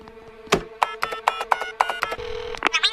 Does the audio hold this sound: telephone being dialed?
yes